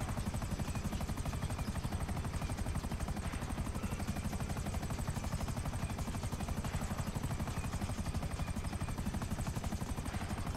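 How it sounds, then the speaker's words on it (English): Helicopter in Grand Theft Auto V with a steady, loud rotor chop and engine drone that runs throughout without a break, dense and close, with no talk over it. "Gain some altitude, little chopper."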